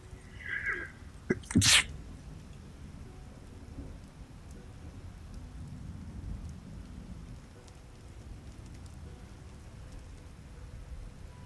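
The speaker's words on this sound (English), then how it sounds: "Bad sneeze there" A single loud, sharp sneeze bursts out near the start during a live stream of The Witcher, followed by a steady low rumble like rain and distant thunder for the rest of the moment.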